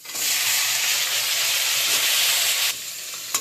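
Crab pieces, washed and coated in turmeric and salt, frying in hot oil in a pan, giving a loud, steady hiss and sizzle that runs unbroken for a few seconds before dropping away sharply near the end.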